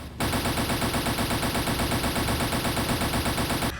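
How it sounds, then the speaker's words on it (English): Wing-mounted machine guns of a P-39 fighter plane fire in one sustained, loud burst of rapid automatic shots that lasts several seconds and then cuts off abruptly. "The wing-mounted guns on his P-39 fired as expected."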